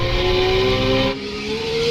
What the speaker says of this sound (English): The Lambo sounds awesome, but the Scarlet is just freaking cooking it.